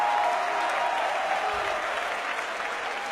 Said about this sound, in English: The crowd love that.